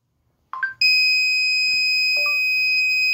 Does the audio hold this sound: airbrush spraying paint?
no